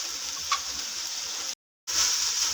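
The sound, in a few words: macaroni with spices frying in pan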